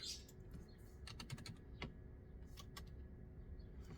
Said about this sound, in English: let's type it in